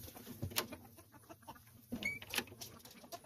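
Backyard chickens cluck in short, scattered bursts around a garden coop, fairly close and moderately loud, with light rustling and outdoor background noise between the calls.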